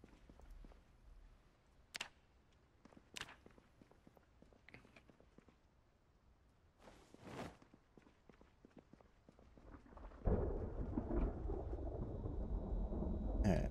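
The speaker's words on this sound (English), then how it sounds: "Nice thunder." Thunder in the video game Project Zomboid: scattered footsteps and clicks give way to a loud, sustained rumbling roll that swells and stays heavy to the end.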